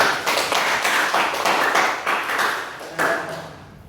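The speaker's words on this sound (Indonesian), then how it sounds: "Tepuk tangan untuk temannya." A classroom of students claps for a classmate, a steady burst of applause lasting a few seconds with a faint voice underneath.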